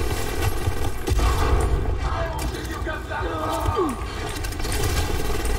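Sustained rattling gunfire in a video game battle, continuous and fairly loud with crowd-like shouts and commotion mixed in, and people talking over the din.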